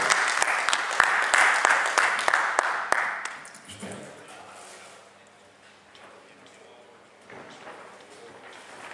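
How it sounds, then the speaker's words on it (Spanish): Audience applause at a Spanish award ceremony closing a retro video game event: a dense burst of clapping with a few sharp claps, fading after about three seconds into quieter room noise and scattered faint sounds. "Un aplauso"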